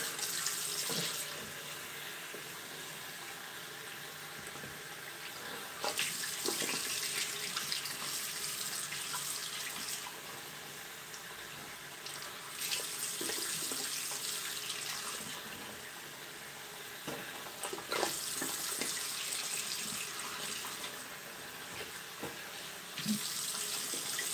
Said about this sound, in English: That was the warm water, now the cold water.